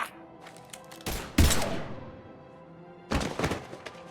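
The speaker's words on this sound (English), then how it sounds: "Now open fire!" Gunfire in the video game Mass Effect 3: two short broadband bursts of shots, the second a second and a half after the first, loud and close with a quiet gap between them and no talk.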